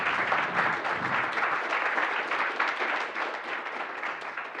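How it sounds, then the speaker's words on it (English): A conference audience applauds speakers steadily, a dense wash of many hands clapping at moderate volume throughout. "There was a huge round of applause there."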